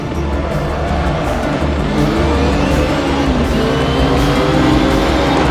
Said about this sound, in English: Those engine noise is incredible.